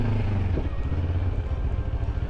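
Motorcycles of mixed sizes, large and small, rumbling by in traffic on a Balkan road trip, a loud continuous low engine drone with a brief rising pass, close to the listener.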